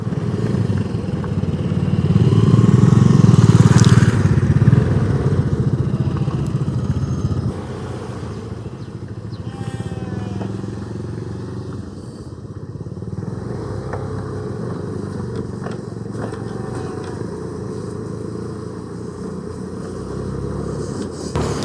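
A motorcycle rides offroad along a jungle track, its engine loudest early on, then settling into a steadier, lower drone with rattles and bumps from the rough ground.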